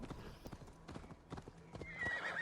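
A horse's hooves clop in an uneven walking rhythm, quiet and somewhat distant, followed by a short whinny near the end.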